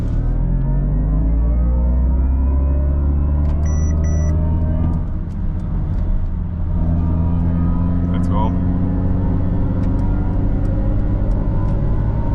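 A Mercedes-AMG EQE53 electric car launching from a race start on an unrestricted Autobahn, rising whine tones climbing steadily under road rumble, loud and close from the cabin, with a person talking over it.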